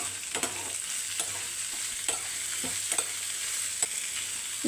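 Lemon pieces fry in a hot pan with a steady sizzle, punctuated by regular scraping strokes of a stirring spoon, close and alone without any voices.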